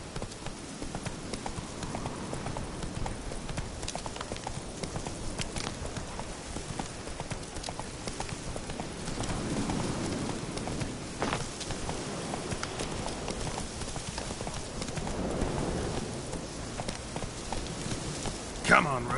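Roach, the horse in the video game Witcher 3, gallops with continuous, rhythmic clip-clop hoofbeats for the whole stretch, steady and moderately loud, while a player speaks now and then.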